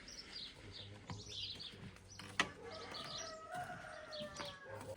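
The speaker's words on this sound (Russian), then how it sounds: "Слышно петушков на заднем плане." Faint roosters and small birds call in the distance on Easter Island, scattered crows and chirps drifting over a steady outdoor hiss of jungle ambience.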